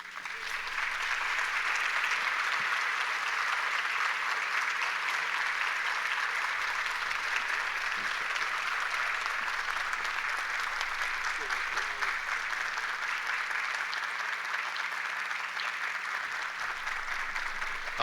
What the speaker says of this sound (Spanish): Aplausos una vez más para don Efraín Castillo